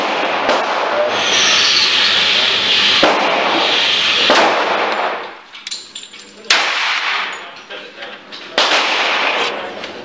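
A Colt 1911 Commander pistol in .45 ACP is test fired, giving a series of sharp, loud, irregularly spaced shots, with metallic clanks and quieter gaps between them.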